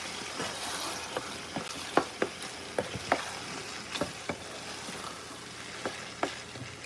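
Sausage fries with a steady sizzle in a pot, with irregular spoon taps and scrapes knocking against the metal as it is stirred, fairly close and continuous with no talking.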